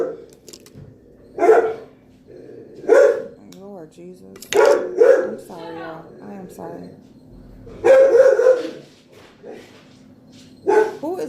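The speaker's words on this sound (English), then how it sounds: "Why is he barking like that?" A dog barking in sharp, loud bursts spaced a second or two apart indoors, with a few whiny yelps between, while a person talks over and between the barks.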